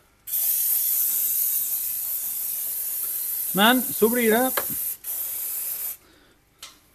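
A bottle sprays a loud, continuous hiss for about six seconds while a leak is checked, with someone speaking briefly over the middle of it before it cuts off.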